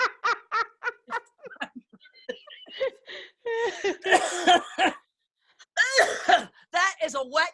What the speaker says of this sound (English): That is a wet cough.